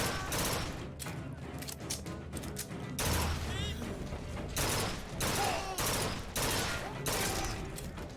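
Burst-fire gun shooting in a video game, broadband gunfire blasts arriving in short repeated volleys through most of the stretch, fairly loud, with game sounds and some voice underneath.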